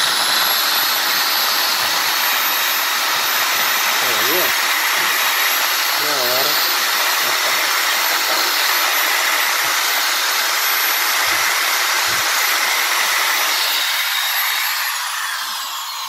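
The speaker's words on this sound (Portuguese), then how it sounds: "Vai pegar aqui a furadeira, uma broca de escova." An electric drill fitted with a wire brush bit scrubs a grill, producing a loud, steady high-pitched whine and harsh abrasive hiss that runs continuously before easing off at the end.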